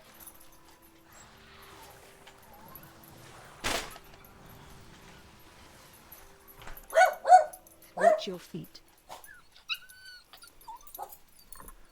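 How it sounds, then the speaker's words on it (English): Dogs at home bark and yip in a short excited burst, fairly close, following a sharp knock-like bang, with a person speaking briefly over quiet room tone. "The dogs are barking"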